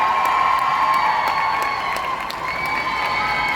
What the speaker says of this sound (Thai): ขอเสียงปรบมือดั งๆครับ